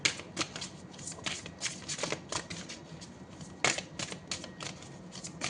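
Tarot advice cards being shuffled by hand in a quiet room, a steady run of soft papery riffles and flicks with a few sharper slaps, close and fairly quiet, with no talking.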